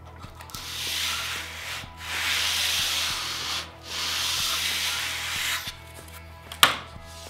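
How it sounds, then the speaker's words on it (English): Belt sander with 120-grit sandpaper working wood, a steady close abrasive rubbing hiss in several long passes with brief pauses between them and a sharp knock near the end. "I'm gonna take it the rest of the way to the line using my belt sander."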